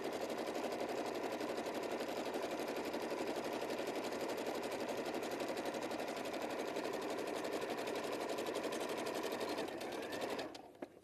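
Sewing machine running steadily through two pieces of same-weight 100% cotton fabric, a fast continuous whir with rapid needle ticking that holds loud and even for about ten seconds, then stops.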